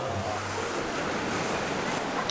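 Ocean surf washes steadily along a seaside shore in Ilocos Sur, Philippines, a constant broad roar with no clear breaks and faint wind mixed in.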